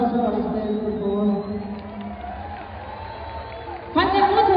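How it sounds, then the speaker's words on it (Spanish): A live concert crowd in the Plaza de Toros México bullring applauds and cheers, a broad steady roar with a sustained voice or tone riding over it, then swelling louder near the end. "Un aplauso a ustedes, por favor"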